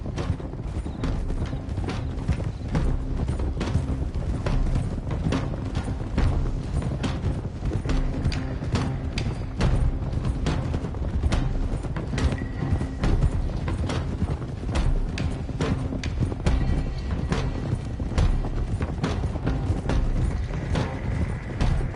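Horses' hoofbeats in the Red Dead Redemption 2 video game, a group riding together in steady, dense clip-clop rhythm with creaking tack, loud and continuous throughout without talk.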